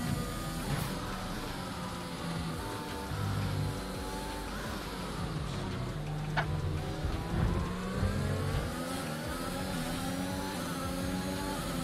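Formula 1 race cars in the F1 2021 racing game drone and whine continuously as several cars run close together and overtake, with engine pitch rising and falling throughout and no talk.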